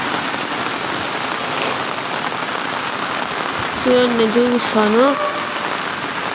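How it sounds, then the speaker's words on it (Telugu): Heavy rain pours down in Chittoor during flooding, a dense, steady hiss that runs throughout, while someone speaks briefly over it near the end. "ఇప్పుడు ఫుల్ వర్షాలు"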